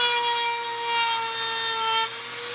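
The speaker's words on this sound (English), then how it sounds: "So about the best way to do it is with this little Dremel tool." A small Dremel rotary tool grinds metal rivets on a Piper Super Cub wing rib with a close, continuous high-pitched whine that cuts off abruptly near the end.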